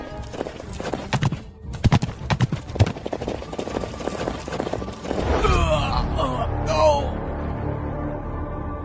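Horse hooves clip-clop in a rhythmic run of sharp knocks for several seconds, then give way to a louder mixed scene with gasps and voices in a Chinese costume drama.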